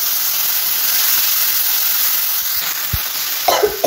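Chilli, ginger and garlic spice paste frying in hot oil in a Bengali home kitchen, a steady broad sizzle throughout with a brief stir or clatter near the end.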